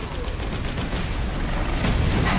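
Grenades bursting in a Warhammer-style fantasy action video game, a dense run of sharp blasts and crackling gunfire-like bangs throughout, with a louder burst near the end.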